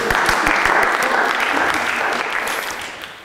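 Workshop participants clap for themselves after a group sing-along, a dense burst of hand claps from a small group that starts strong and slowly thins and fades toward the end.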